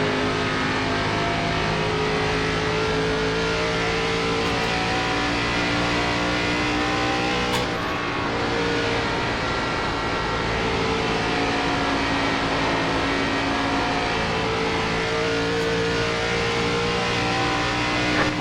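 NASCAR race cars roar in the iRacing sim during a 2003 career season race, a steady loud multi-engine drone with layered harmonic whine held throughout, briefly dipping mid-way before resuming at full pace.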